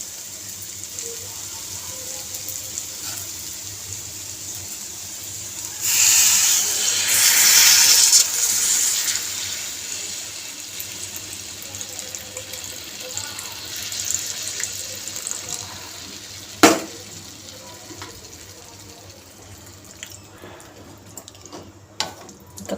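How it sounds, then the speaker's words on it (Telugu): Tamarind juice poured into a simmering bottle gourd curry makes a steady, close liquid splash that lasts a few seconds. It fades back to a quiet background, broken later by a single sharp knock, with no voices. "ఇప్పుడు దీనిలో చింతపండు రసం వేసేద్దాం"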